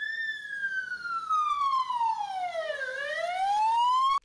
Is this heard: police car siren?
yes